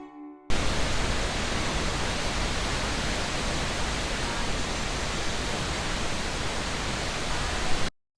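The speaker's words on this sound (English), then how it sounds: "We are at the La Fortuna Waterfall." La Fortuna Waterfall in Costa Rica roars with rushing, crashing water, a loud, dense, constant wash of noise that starts abruptly and holds steady with no voices over it.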